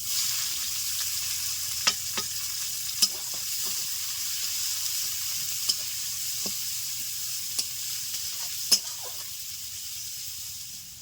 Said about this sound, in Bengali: এখন দিয়ে দিচ্ছি পেঁয়াজ কুচি, এখানে 2টো মিডিয়াম সাইজের পেঁয়াজ কুচি করা আছে।